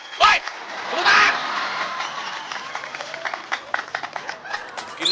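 Studio audience on an Indonesian TV comedy show breaks into two loud bursts of clapping and cheering near the start, then a looser patter of scattered claps and crowd noise continues to the end.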